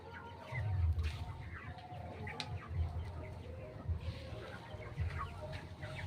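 Chickens on a farm cluck in low repeated bursts, several birds close together and overlapping steadily throughout, with faint higher squawks mixed in.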